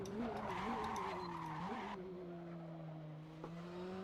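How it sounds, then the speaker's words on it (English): Praga racing car in a video game with brakes locked, tyres skidding as a squealing tone bends and slides over the engine hum, fairly faint and lasting the whole few seconds. "I'm locking the brakes a bit much"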